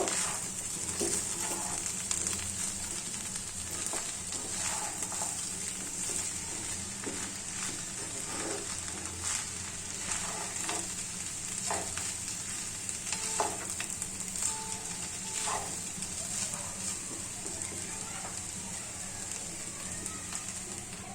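Chira polao, a flattened rice pilaf, is stirred and mixed in a hot pan, making a continuous soft sizzle with scattered scraping and stirring clicks throughout, quiet and with no voices.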